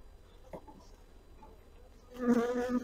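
Honey bees buzzing on a hive frame during a late-season hive inspection, a faint hum at first that swells into a loud, dense close-up buzz over the last second.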